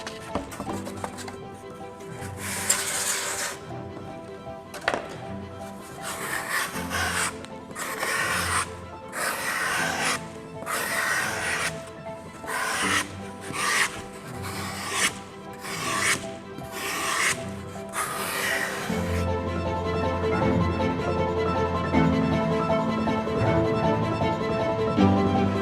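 A grater rasps wood while roughing out a carved butterfly, repeated coarse scraping strokes in bursts of about a second separated by brief pauses, then a steadier grinding texture toward the end, close and fairly loud with no talking.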